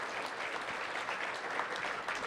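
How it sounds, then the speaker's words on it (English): Audience applause at a Friday Forum talk, a steady dense wash of many hands clapping at moderate level for a couple of seconds, with no voices over it. "can we just clap for that?"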